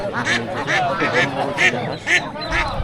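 Loud, repeated Chinese duck quacks and honks burst out in quick succession, close by and overlapping, with a busy village market crowd murmuring underneath.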